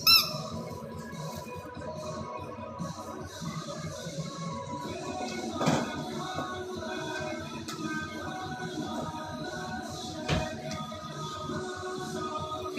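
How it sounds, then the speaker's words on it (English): A squeaky dog toy squeaks in a home setting, giving a few sharp squeaks separated by longer quiet stretches over a faint background hum, heard alone at moderate distance without talk. "Always gotta get the doggy squeaky."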